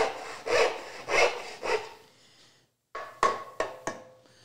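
A backsaw cuts the shoulder of a wooden tenon: three strong rasping strokes come first, then a brief silence, then several quicker, sharper short strokes, all close by.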